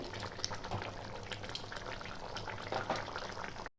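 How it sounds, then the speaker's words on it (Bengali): Rohu fish pieces simmering in mustard sauce over medium-low flame, a steady close bubbling and gentle sizzle running evenly throughout before cutting off abruptly at the end. "মাছগুলো 3 থেকে 4 মিনিট ভালো করে ফুটবে মিডিয়াম টু লো ফ্লেমে।"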